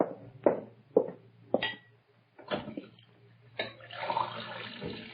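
A radio drama sound effect of tap water running into a glass: a few short splashy bursts, then a steadier rush of pouring water near the end, close and fairly quiet with no talk.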